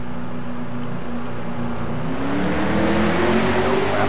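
NASCAR race cars roar off the green flag at the Toyota Save/Mart 350, a dense, loud engine drone with a rising pitch as the pack accelerates, continuous and steady throughout.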